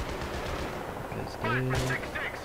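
Heavy automatic gunfire rattles through a Battlefield 3 co-op firefight, loud close bursts with dense overlapping shots and a brief voice in the mix.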